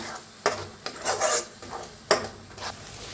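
A ground wet masala paste is stirred in a pan for an egg curry, with scraping, rasping strokes of a spoon against the metal that come as several distinct bursts, close and fairly loud, with no talking.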